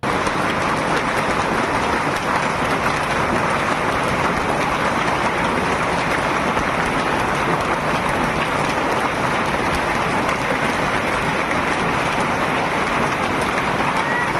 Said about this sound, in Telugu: మొత్తం వడగల్లే పడుతున్నాయి ఆకాశంలోకెళ్ళి